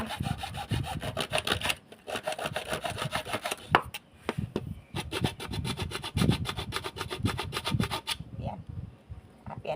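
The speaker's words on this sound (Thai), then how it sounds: "แป๊บที่เยน้อยเลื่อยนะคะ" Hand saw rasping through wood in steady back-and-forth strokes, close and loud, with a few short pauses between bursts of cutting.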